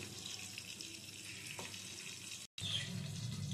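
Pabda fish fry in a covered pan with a faint, steady hiss of oil, broken by a brief cut before the sizzle returns slightly louder.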